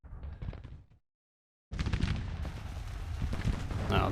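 Cannon and gunfire in a Civil War battle game, a burst of shots and booms that cuts off into a short silence, then resumes as a heavier, continuous roar of firing.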